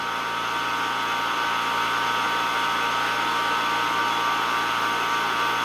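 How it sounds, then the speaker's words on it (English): An electrical arc crackles inside a xenon-filled glass ball at raised gas pressure, making a loud, steady buzzing hiss that holds unbroken from start to finish. "Much wilder arc in this ball."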